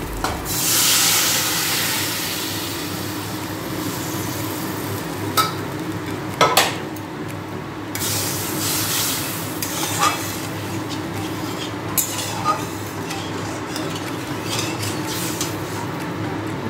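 Boiled mung dal tipped into a pan of fried spices and stirred, a continuous soft sizzle with a steady hiss, broken by occasional sharp clinks of a spoon against the pan.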